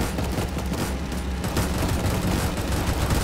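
Minigun towers in the Roblox game Tower Defense Simulator fire continuously, a dense, loud, unbroken rattle of rapid gunfire that holds steady through the whole stretch with no pauses.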